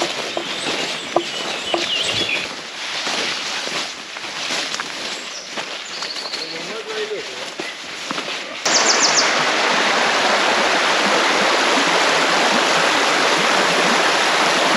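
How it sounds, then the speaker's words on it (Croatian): A mountain stream flows through forest at Durmitor. Footsteps and faint birds come first over a soft water hiss, then loud, close, steady rushing water takes over. "Naišli smo na potok"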